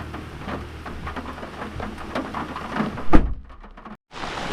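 Rain falls near Pavas in Ratnagiri, pattering steadily on nearby surfaces. A single loud thump comes around three seconds in, and after it the sound cuts off briefly and then resumes.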